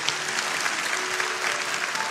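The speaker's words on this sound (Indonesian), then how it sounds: "Kasih tepuk tangan untuk Tuhan Yesus." A church congregation claps for Jesus during a sermon, a brief, dense burst of crowd applause that holds steady throughout with no speech over it.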